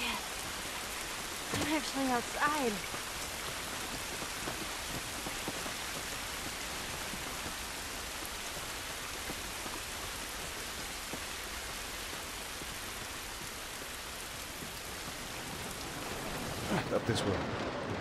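Steady rain hisses across the whole scene in The Last of Us Remastered, a dense even wash of falling water with brief voices breaking in near the start and again near the end.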